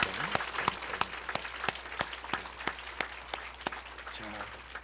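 Church congregation claps in welcome and blessing for three families during a Sunday service, a loose, fairly quiet patter of distinct claps with a few sharper individual hits spread across the room.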